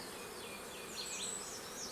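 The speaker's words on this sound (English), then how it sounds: "This is my bee yard." Honeybees in a backyard bee yard on a warm day, a steady, even hum of many wings filling the air, close and continuous with no voices.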